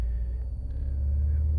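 A Renault Sport GT sits in launch control, its engine producing a deep, steady rumble held close and continuous for a moment.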